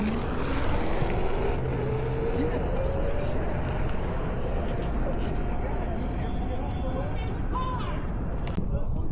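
Electric scooters, a Teverun 7260R, GT Pro, Teewing XTR and Inmotion RS, launch together at a drag race start, a steady loud whir with rising motor whine over wind and road rumble throughout.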